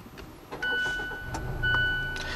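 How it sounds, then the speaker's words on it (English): A 2016 Mazda6 starts via its push button: a short electric crank and catch into a quiet idle, with faint electronic chimes from the cabin, all close and brief. "put your foot on the brake, and then push the button, which is a little too high for my taste to fire up the engine."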